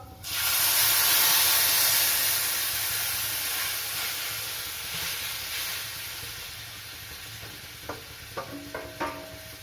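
Radish sour curry poured into a hot wok bursts into a loud, broad sizzle and hiss that slowly eases, with a few utensil clinks near the end.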